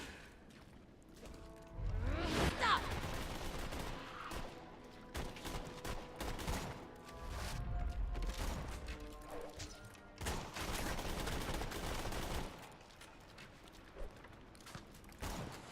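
Bursts of gunfire from a Borderlands 2 co-op session, rapid clustered shots in several volleys with mechanical clicks and clanks between them, fairly loud and close.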